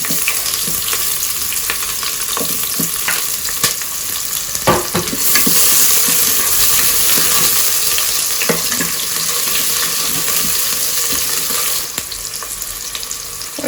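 Onion with chillies, cloves and cinnamon sizzles and fries in a pan, a steady loud crackling hiss with scattered stirring clicks and scrapes throughout, no talking.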